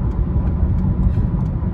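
A car pulls up at a U-Haul rental lot early in the morning, its engine a steady low rumble close by, with no talk over it.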